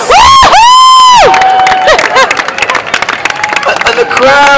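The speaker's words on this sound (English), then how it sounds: "And the crowd goes wild." A street show crowd in Covent Garden cheers and whoops loudly, high shouts rising over scattered clapping, with a burst of shrieks at the start, a lull, then renewed yelling near the end.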